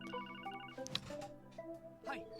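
A phone call ringtone from The Legend of Heroes: Trails From Zero plays a short, quiet electronic melody of stepped tones over game music.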